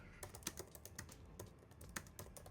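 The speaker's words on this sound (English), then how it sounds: "let me just type something here" Typing on a computer keyboard while working in Figma, a quiet run of irregular key clicks filling the moment alone with no talk.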